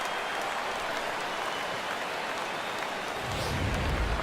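A large virtual baseball stadium crowd of around 39,000 in MLB The Show 17 roars steadily and loudly, a dense continuous wash of cheering with no pauses, swelling slightly toward the end.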